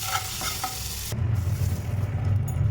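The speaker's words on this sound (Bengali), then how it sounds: "একটা কড়াই বসিয়ে দিয়েছি, কড়াইয়ের মধ্যে দিয়ে দেবো অল্প একটু বাটার" Butter melting and sizzling in a kadai for bread pizza, a soft crackling hiss under a low, continuous rumble of the burner, close and steady throughout.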